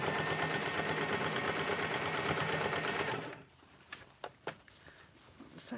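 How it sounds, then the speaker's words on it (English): A sewing machine stitches a curved seam in fabric for a garment mock-up, a fast, loud, even run of needle strokes for about three seconds, then stopping, followed by a few sharp handling clicks and taps in near silence. "it is a little bit like sewing a straight line but you're just allowing for a bit of a curve"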